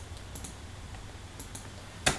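Brief typing on a computer keyboard, a few soft scattered key clicks spaced irregularly, ending with one louder keystroke, heard close against quiet room background.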